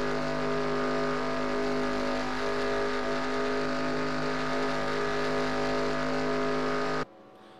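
Race car engine in a Talladega stock-car racing video game, a loud sustained high-revving drone with steady harmonic whine and a faint crowd-like wash, cutting off abruptly near the end.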